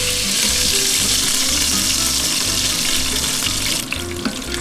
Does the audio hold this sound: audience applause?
no